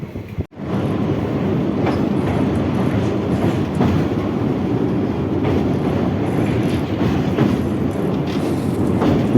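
Passenger train running through forest toward Hasimara from New Mal Junction, a loud continuous rumble of wheels on rails heard from inside, with faint rhythmic clicks over the joints throughout.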